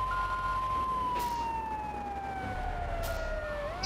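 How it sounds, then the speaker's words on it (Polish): A police car siren from the Grand Theft Auto III video game wails in a slow, steady tone that glides gently down, moderately loud over low engine rumble, with no talk. "Syrena się wyłączy automatycznie"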